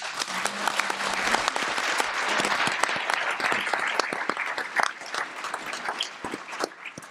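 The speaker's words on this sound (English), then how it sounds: "we should really give them a hand" An audience applauds at a talk on theater and education for student social change, giving dense, moderately loud clapping for several seconds.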